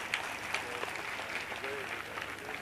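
An audience at a large religious gathering claps, with steady applause running underneath a speaker's voice and rising in brief bursts.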